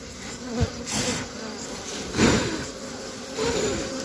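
Honeybees nesting in a cavity inside a pile of corrugated sheet metal buzz continuously after being smoked, a dense droning hum with swells and bees passing close, no talk.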